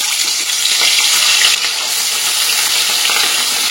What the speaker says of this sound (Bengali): এবার নুন হলুদ মাখিয়ে রাখা যে রুই মাছটা সেটা আমি ভেজে নেব